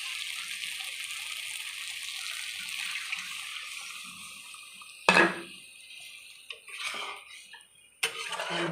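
A little water is poured into a pan of masala with rohu fish, bringing a faint background hiss, then a sudden loud burst of sizzle and a few later clattering bursts.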